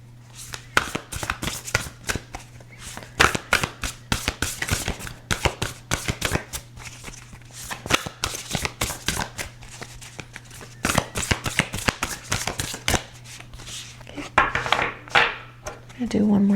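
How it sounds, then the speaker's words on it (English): A deck of tarot cards is shuffled by hand in a steady run of quick riffling clicks and soft slaps, close and fairly quiet over a low constant hum, with a brief pause near the end. "I'm gonna do one more shuffle."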